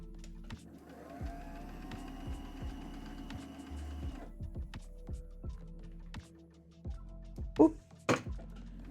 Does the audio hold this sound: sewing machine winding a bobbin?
yes